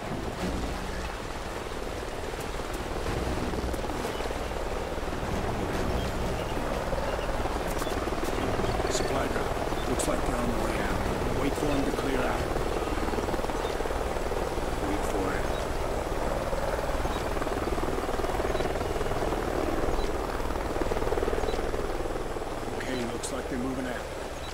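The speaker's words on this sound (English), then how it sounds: "Sounds like a chopper's up ahead of us." In Call of Duty: Ghosts, a helicopter's steady rotor drone hangs in the background, continuous and moderately loud, with a soft rain-like hiss over it.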